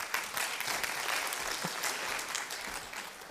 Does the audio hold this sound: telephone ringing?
no